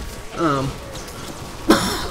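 A single sharp cough bursts out near the end, following a brief bit of throat noise and a voice, close to the microphone.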